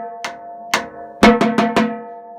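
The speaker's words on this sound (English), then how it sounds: "The X lines are just rim shots, you're just clicking the top of the bass drum" Drumline bass drums tapped on the rims in a sparse rim-shot rhythm, with two isolated clicks followed by a quicker cluster of four sharp, ringing hits, played close and alone.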